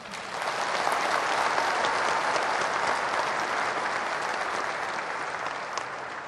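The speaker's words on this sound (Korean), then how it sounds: "우리 박근혜 대통령님께 큰 박수 부탁드립니다" Sustained applause from a large audience at the opening ceremony of the new South Chungcheong provincial government building in Naepo, rising quickly and holding steady, dense and even throughout with no speech over it.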